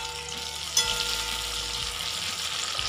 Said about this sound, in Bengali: পেঁয়াজটা বেশ ভালো ভাজা হয়ে গেছে